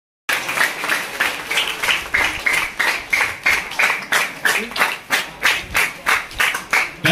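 An audience at a school welcome ceremony claps hands, a steady full round that settles into a slow, even rhythmic beat of loud claps, continuing alone without talk.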